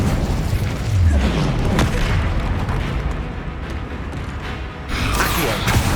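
The Incendio fire spell from Hogwarts Legacy bursts out with a loud, booming whoosh, a deep rumbling blast that swells, dips, then flares again near the end.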